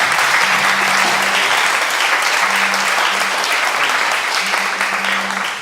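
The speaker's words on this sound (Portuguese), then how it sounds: "Eu queria pedir uma salva de palmas para ela" A seminar audience breaks into loud, sustained applause for Maria Lúcia, thick clapping throughout with a faint tonal hum running underneath at intervals.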